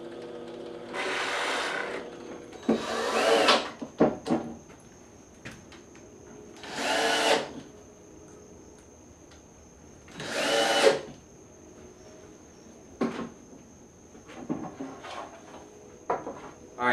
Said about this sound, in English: With my fence set up on the drill press, it will ensure all my holes will be in line.